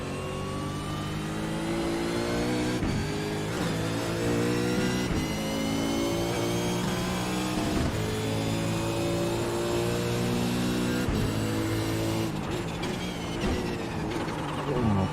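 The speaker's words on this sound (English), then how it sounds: "There's a car approaching." Race car engines in a Supercars racing video game at Detroit, a steady loud drone of revving and accelerating cars with shifting engine pitch throughout, a commentator's voice faintly under it.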